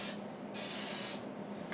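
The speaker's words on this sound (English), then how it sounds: "Now I'm going to spray them again" Short bursts of cooking spray from an aerosol can hiss over wontons before baking, three quick sprays with brief pauses between, close and clear with no talking.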